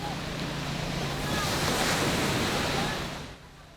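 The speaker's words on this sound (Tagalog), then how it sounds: "Malalakas din ang alon sa dagat." Strong sea waves off San Jose, Occidental Mindoro, a constant roaring surf wash with wind noise that swells in the middle and fades near the end.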